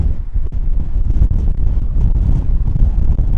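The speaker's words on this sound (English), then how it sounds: "It's so windy." Strong wind ahead of a storm buffets the microphone in a steady low roar with gusty rumbling bursts, loud and continuous throughout, while hiking in Capitol Reef National Park, Utah.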